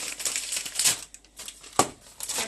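Plastic piping bag being handled while it is prepared for piping buttercream peony flowers, with close, soft crinkling and rustling in irregular bursts throughout.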